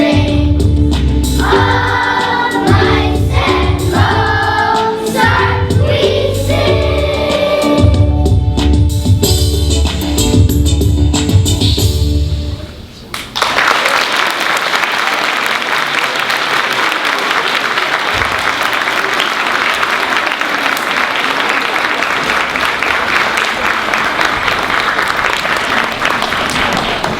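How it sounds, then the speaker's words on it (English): An audience bursts into loud, sustained applause and clapping after a second grade school performance, the clapping following the closing of a song and continuing steadily for over ten seconds. "Let's give them another round of applause."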